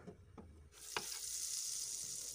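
Two tablespoons of butter melting in a pan, with a few light clinks of stirring early on, then a steady bright sizzle that builds and holds to the end.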